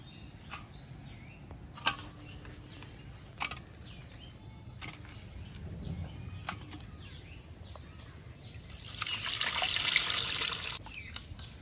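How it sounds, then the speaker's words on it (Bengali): Cut pieces of fresh hilsa fish rinsed under running water in a kitchen, with soft handling clatter and a faint trickle that swells into a loud, steady rush of water near the end, no talking. "এবার মাছগুলো এখন ধুয়ে নেব।"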